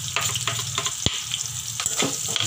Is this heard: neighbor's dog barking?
no